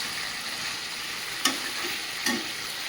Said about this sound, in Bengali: চিকেনটা কিন্তু খুব সুন্দর কষানো হয়ে গেছে।